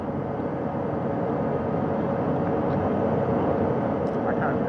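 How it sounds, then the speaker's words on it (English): A steady, heavy rotor and engine roar fills everything, unbroken and close, like a helicopter hovering about 40 feet over a house's front porch. "Helicopter 1 again hovering 40 feet over the front porch."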